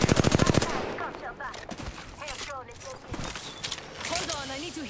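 Rapid automatic gunfire bursts loud and close at the start, then scattered shots and impacts in an Apex Legends match, with players talking over the action.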